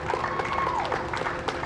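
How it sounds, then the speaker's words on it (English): A small crowd applauds and cheers as NASA astronauts emerge for a SpaceX crewed mission launch, brief outdoor clapping with a whistle rising and falling through the middle. "Small crowd, but big cheers."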